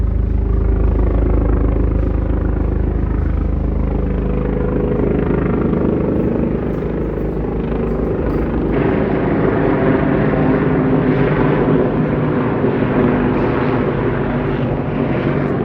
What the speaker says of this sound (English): You guys check out that helicopter. I heard it from far, far away.